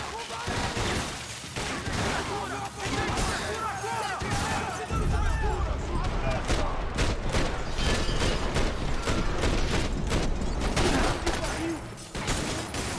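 Rapid, sustained gunfire from Max Payne 3, dense bursts of shots over game sound effects, with talk mixed in and continuous loud action throughout.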